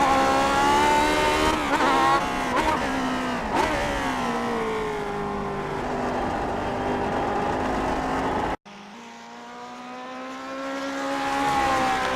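A Lotus 49 race car at Watkins Glen screams past under hard acceleration, the engine note rising and falling through gear changes, loud and close, with a brief cut before the howl resumes.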